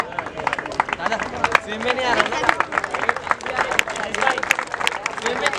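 A crowd applauds steadily at a youth football league ceremony in India, producing dense, sharp overlapping claps that rise and fall, with murmured chatter and voices underneath throughout.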